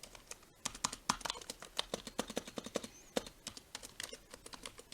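Fingers type briskly on a Razer Huntsman mechanical keyboard with slightly rattly keys. The keystrokes come close and sharp in an uneven, continuous patter at fairly low overall volume.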